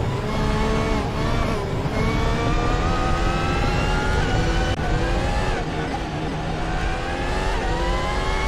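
Formula 1 cars in the Assetto Corsa sim racing through the Copse and Maggotts–Becketts section of Silverstone at the 2018 British Grand Prix: a loud, continuous, high-pitched engine whine that rises and dips with gear changes while a commentator speaks.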